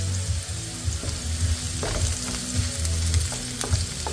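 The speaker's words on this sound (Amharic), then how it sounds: "እንደገና አብሮ በደንብ እንዲጠበስ ማድረግ ነው።" Vegetables fry in oil in a pan with a continuous, close crackling sizzle, and occasional stirring scrapes and pops rise through the steady hiss.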